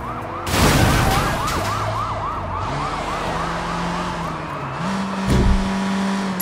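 Police car sirens wailing in pursuit in the video game Sleeping Dogs, a loud rising-falling siren over a revving car engine, with a couple of heavy impacts.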